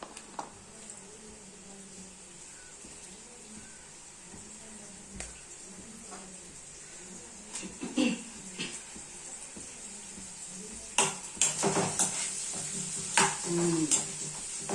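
Menthulu curry fries in a pan, giving a soft, steady sizzle with occasional stirring scrapes and clinks of a utensil against the pan, growing busier toward the end.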